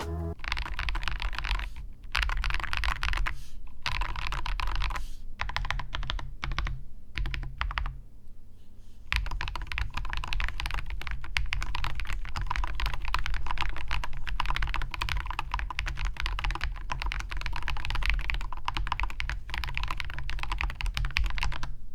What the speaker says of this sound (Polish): posłuchajcie jak to wszystko klika